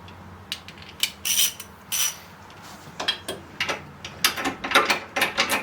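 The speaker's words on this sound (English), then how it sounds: "I have to use my 19mm socket now to take off the two bolts on the back of this." A ratchet turning a 19mm socket to loosen bolts on the brakes of a Jeep JK, giving bursts of close, rapid metallic clicking in several short runs with brief pauses between.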